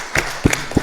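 At the launch of Air Sierra Leone, three sharp, separate hand claps ring out close and clear in quick succession, heard on their own.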